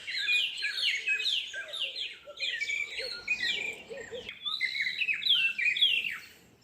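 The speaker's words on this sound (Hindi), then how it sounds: "सुबह सुबह का टाइम, माशाल्लाह परिंदे चहचहा रहे हैं" Birds chirp and tweet steadily through a green town in Rwanda in the morning: many overlapping high, quick calls with no talking.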